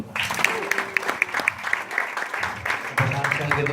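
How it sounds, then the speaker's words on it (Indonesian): Audience applause at a marketing plan presentation, a steady spread of clapping that carries through the whole stretch, mixed with talking voices. "Kasih aplaus dulu dong untuk menjawab"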